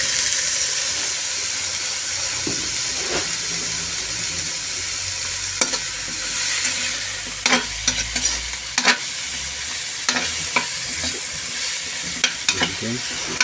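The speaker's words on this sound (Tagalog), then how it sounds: "Tapos lagay ko na rin yung sibuyas at saka yung hipon niya." Onion and shrimp sizzle steadily in a hot pan for a Filipino-style dish, with a utensil scraping and clacking against the pan in sharp bursts; the sound is close and continuous, with no voices.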